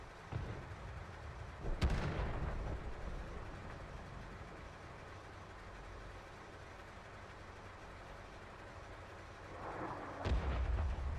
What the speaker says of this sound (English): Artillery's exploded.